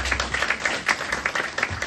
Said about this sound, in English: please give a round of applause to single mothers